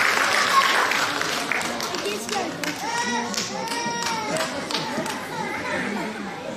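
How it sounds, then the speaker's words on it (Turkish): Clapping rises from the audience at a kindergarten end-of-year show, steady and fairly loud at first and then softening, mixed with children's voices and chatter in a large room. "Bu güzel şiir eşliğinde kuvvetli alkışlarımız onlar için gelsin"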